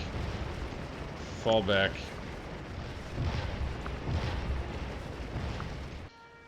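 Musket volley fire in a Civil War video game: booming, rumbling reports roll over a steady battle din, and a voice calls out a brief command partway through.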